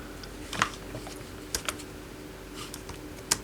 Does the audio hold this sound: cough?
no